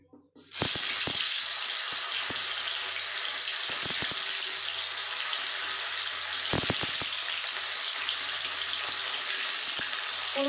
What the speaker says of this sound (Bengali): দেখুন তেল গরম হয়ে গেছে আমি এখানে পনিরগুলোকে দিয়ে দেবো দিয়ে একটু ভেজে নেবো